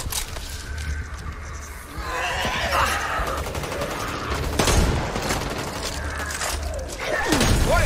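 Dense, continuous gunfire from the zombie co-op shooter Back 4 Blood, with rapid shots and mechanical clatter layered over a busy, loud game mix that swells toward the end.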